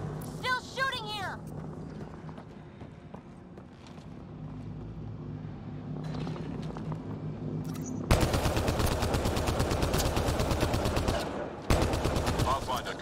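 Rapid automatic weapon fire in the video game Mass Effect Andromeda: a low ambient hum, then loud, dense bursts of gunshots from about the eighth second onward, with a brief break before the firing resumes.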